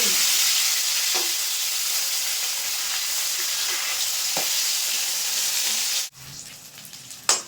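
Turned rohu fish pieces fry in hot oil with a steady, loud sizzle and a few light clinks, then the sizzle drops away sharply near the end, leaving a short quiet tail.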